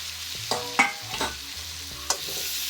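Chopped tomatoes drop into a pan of frying shol (snakehead) fish curry, giving a few quick stirring clatters and soft sizzle bursts close by, with no talking.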